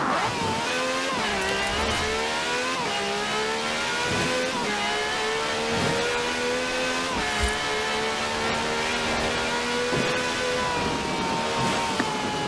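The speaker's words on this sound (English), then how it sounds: "This has a V12 with over 750 horsepower" V12 taxi cab engine of over 750 horsepower in Forza Horizon 4, revving hard and continuously with repeated gear shifts, the pitch climbing and dropping in a loud, close, unbroken engine note.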